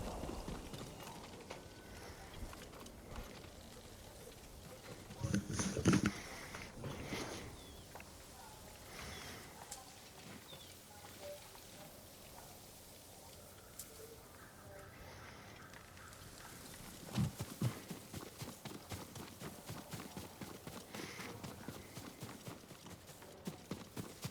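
Horse hooves clip-clopping in the video game Ghost of Tsushima, a steady trotting rhythm at moderate distance mixed with light rain, and a couple of louder thuds partway through.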